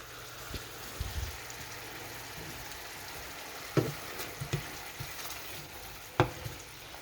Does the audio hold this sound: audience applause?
no